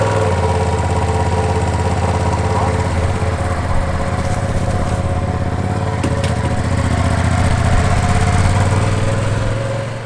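A 2025 Ducati Panigale V2S sport motorcycle engine runs steadily and loudly up close, a constant low rumble with a slight rise in intensity toward the end, with a voice speaking over it.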